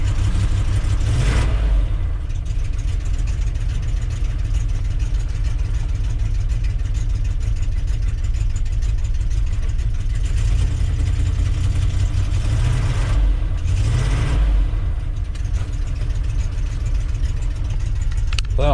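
A 1973 Ford F250 engine idles loudly with a deep, steady rumble after a freezing cold start, with two brief revs that rise and fall, one near the start and one near the end.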